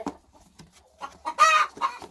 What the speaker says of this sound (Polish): Tutaj i idziemy zamknąć kury ozdobne.